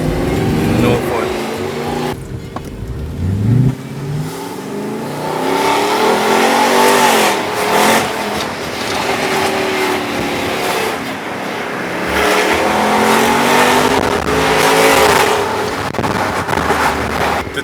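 A powerful Mercedes-AMG engine revs hard and accelerates on a Jamaican road, roaring up through the gears with loud, aggressive surges close by.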